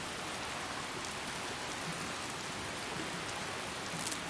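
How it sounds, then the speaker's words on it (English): Rain falls steadily in Skyrim, a dense, even hiss of drops on the ground with no breaks. No one speaks. "Oh, it's raining."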